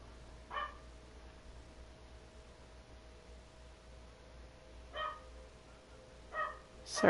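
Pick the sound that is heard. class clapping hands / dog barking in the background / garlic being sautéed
dog barking in the background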